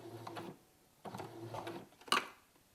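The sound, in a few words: sewing machine sewing quarter inch seam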